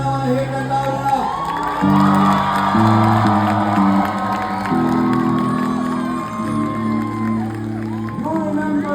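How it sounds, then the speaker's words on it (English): A festival crowd at a cultural event in Mississauga, Canada cheers and whoops loudly over steady music with sustained tones, the roar of voices rising and falling across the whole stretch. "I want you to give a big round of applause and I want to hear that loud enough"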